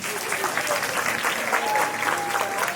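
An audience claps hands in sustained, dense applause, a steady crackle of many hands with faint voices mixed in underneath.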